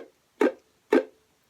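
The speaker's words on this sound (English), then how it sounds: "you play it just by resting all your fingers very gently across all the strings, but without pushing them down onto the fretboard" Muted chord strums on a ukulele, fingers resting lightly on the strings without fretting, give two short percussive chunks about half a second apart with no notes ringing on, preceded by the tail of an earlier strum.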